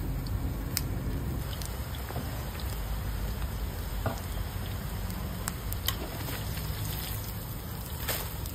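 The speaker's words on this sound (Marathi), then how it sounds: "तेल गरम झालंय, आपण आता याच्यात भेंडीचे पकोडे काढून घेऊ।" Okra pakoras frying in hot oil, a continuous rain-like crackle and patter of bubbling oil, with sharp little pops standing out now and then.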